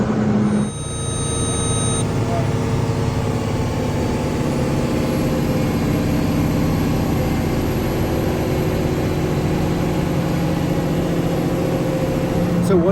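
A big farm tractor's modified engine roars steadily under load against an electromagnetic dynamometer brake, a loud, unbroken drone holding nearly constant for the whole stretch after a brief change at the start.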